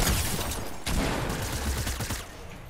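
Rapid bursts of Fortnite gunfire crackle continuously, loud and close, with a brief pause before the shooting resumes.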